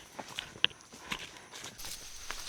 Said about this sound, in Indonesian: sekarang saya sudah jalan kaki hampir 10 menit